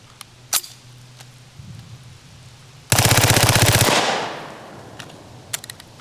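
A Reising M55 submachine gun fires a single continuous burst of about a second, loud and close, ending abruptly in a malfunction; scattered sharp clicks and knocks come before and after.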